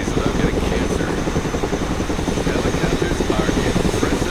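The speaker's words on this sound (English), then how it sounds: "Helicopters are impressive machines. Boy, are they noisy." Helicopter in the Broken Arrow video game, a steady loud rotor and engine roar with dense rapid blade chopping, continuous and close for the whole stretch.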